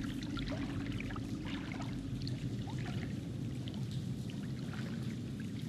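Sloshing water fills the scene as a character wades through it in the video game Until Dawn, a steady, continuous churn of splashes and trickles, fairly loud and unbroken, with no talking over it.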